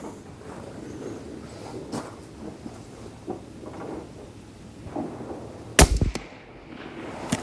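A Horizon Firearms Venatic rifle chambered in 22 Creedmoor fires outdoors, with one sharp, loud report near the end over a rough, windy background.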